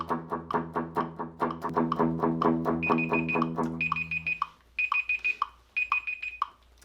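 An electronic timer alarm beeps in repeated short bursts, first under a tonal melody, then alone.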